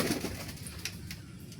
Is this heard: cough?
no